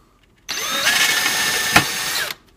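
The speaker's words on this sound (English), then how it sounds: "now let's drill out a rivet and let's see how this works" A power drill whirs at high pitch for about two seconds, biting briefly as it cuts through a rivet, then stops abruptly.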